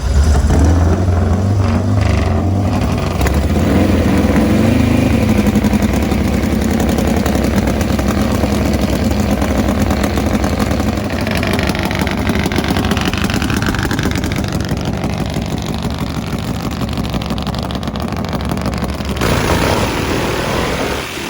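Top Fuel Harley drag motorcycles race with Suzukis nearby, engines roaring loudly and continuously for over twenty seconds, a deep rumble shifting as the machines run and idle, with no voices.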